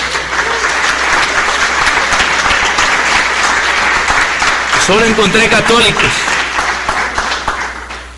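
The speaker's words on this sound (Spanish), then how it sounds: "Démosle un aplauso al Señor." A church congregation at a Catholic healing Mass bursts into loud, sustained applause, filling the room throughout while a voice speaks over the clapping partway through.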